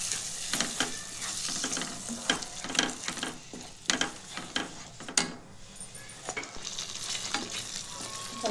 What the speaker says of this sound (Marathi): आता आपण एक पालक जो वाटून घेतला होता तो पालक टाकू याच्यात। याला चांगलं परतून घेऊ।